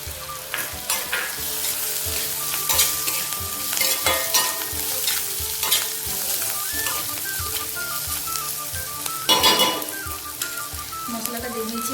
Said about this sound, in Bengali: এবার এতে আমি যে মশলাটা থেতো করে রেখেছিলাম ওটা দিয়ে দেবো।